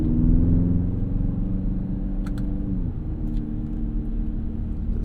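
A BMW X5 M in M mode drones with a low engine hum from inside the cabin, its pitch dropping partway through as a gear shift occurs, steady and moderately quiet.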